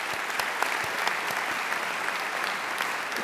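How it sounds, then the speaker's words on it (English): A graduation ceremony audience applauding, dense sustained clapping from a large crowd in a hall, steady and fairly loud throughout. "So please join me in giving them a round of applause."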